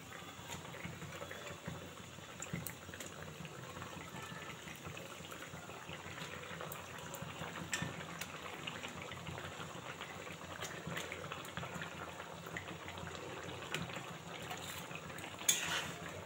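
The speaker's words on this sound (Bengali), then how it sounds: "দেখো বন্ধুরা, তরকারি ফুটে গেছে ঝোলটা।" Fish curry gravy boils in a pan with a low, continuous bubbling and burbling at close range, fairly quiet and steady throughout, with no talking.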